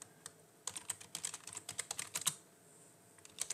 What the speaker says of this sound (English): Actually, I want to type this in here.